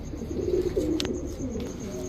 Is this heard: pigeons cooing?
yes